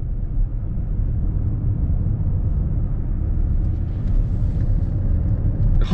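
Steady low road rumble from inside a Toyota Crown Sport as it drives a winding road, a constant dense engine and tyre drone with no break and no talking.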